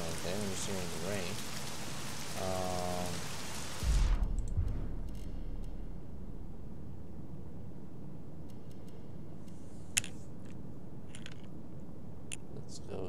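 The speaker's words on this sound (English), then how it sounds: "I'm just hearing the rain." In the video game The Medium, rain patters faintly and steadily as a soft background wash, first under someone talking, then alone after a brief low thump, with a few faint clicks.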